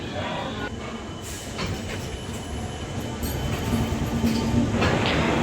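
The 12102 Jnaneswari Express pulls out of Shalimar station, a rumbling train interior with rail clatter, wheel noise and occasional sharp squeals that gradually grow louder as it gathers speed.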